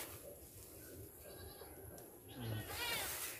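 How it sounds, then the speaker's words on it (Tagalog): Noisy goats bleating on a farm among mango trees, several calls from a moderate distance, the loudest near the end, over steady outdoor background noise. "Palapit na tayo ng palapit sa mga maingay nating mga kambing."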